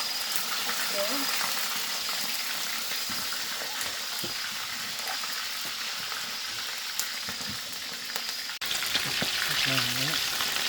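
Freshly caught fish fries in a pan with a steady, dense sizzle and crackle throughout, with a few faint voices and a brief clatter near the end.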